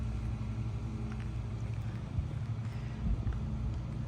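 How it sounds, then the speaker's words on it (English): Breezy wind outdoors at the Thousand Trails Forest Lake campground in Advance, North Carolina, buffeting the microphone as a continuous low rumble with small irregular gusts. "You can tell it's a little bit breezy."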